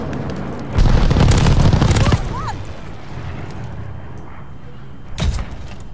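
Heavy airstrike explosions in a first-person shooter game, a long loud rumbling blast burst followed by a quieter tail and a second sharp boom near the end, with faint game voices in the background.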